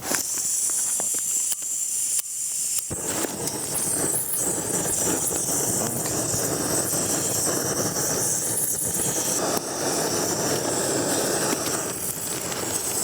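BRS 3000T pocket stove burning to boil water outdoors in light wind, a loud steady roaring hiss that starts after a few soft clicks and continues unbroken, close to the microphone, with no talking.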